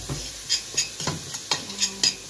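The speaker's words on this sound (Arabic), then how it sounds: "نشوح البصلايه" Onion is stirred in a pan with spices, a spoon scraping and knocking against the metal at a steady rhythm of six or seven strokes over a faint sizzle, close and alone.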